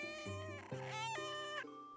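Cat meowing close by in a few drawn-out, tonal calls, one after another with brief shifts in pitch, fairly quiet overall.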